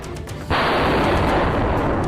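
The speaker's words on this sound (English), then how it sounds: "A big explosion happened here too" Bullet crushed under a hydraulic press gives a sudden sharp bang followed by a sustained loud noisy burst that fills the rest of the moment, close and forceful.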